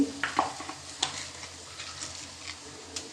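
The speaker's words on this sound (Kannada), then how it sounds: "ಈಗ ಎಣ್ಣೆ ಕಾದ ಮೇಲೆ ಕೊತ್ತಂಬರಿ ಹಾಕುವ ಸ್ವಲ್ಪ ಜೀರಿಗೆ ಸಾಸಿವೆ" Coriander, cumin and mustard seeds drop into hot oil in a clay pot, a soft steady sizzle with faint pops and light ticks, fairly quiet.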